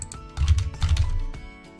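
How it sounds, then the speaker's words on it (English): Computer keyboard typing, a short burst of soft clustered keystrokes close by with a couple of sharper clicks, no talk. "I'm going to go in and start typing my own"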